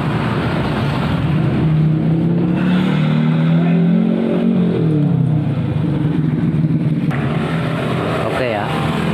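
A Honda Vario scooter engine revs continuously and loudly, its pitch rising and falling as the throttle is opened repeatedly, with a whiny CVT drivetrain hum.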